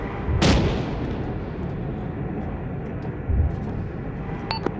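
Gunfire and tank fire in the video game Arma 3 during a sandstorm battle, with a loud booming cannon shot early, a second duller thud later and scattered faint distant gunshots over a rumbling wind bed.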